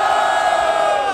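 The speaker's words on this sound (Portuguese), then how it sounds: "Barulho para cima de Big Mike" Loud crowd roaring and cheering at a Brazilian street rap battle, Batalha da Aldeia in Barueri, São Paulo, a steady dense wall of shouting voices with no break.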